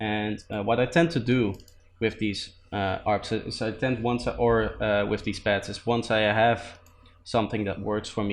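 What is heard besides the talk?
No everyday noises stand out.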